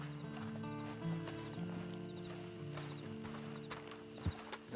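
Horse hooves clip-clop at a steady pace in Red Dead Redemption 2 Online, with background music playing throughout.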